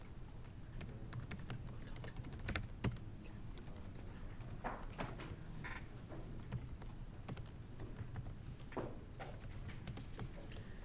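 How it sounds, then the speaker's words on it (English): Steady typing of code on a computer keyboard, a continuous patter of quiet, close keystrokes with occasional heavier taps and no speech. "I'm just going to go ahead and type it out anyway, just for the fun of it."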